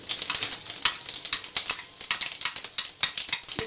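Cumin seeds crackling in hot mustard oil, a dense run of sharp sputtering pops close by, rapid and irregular throughout.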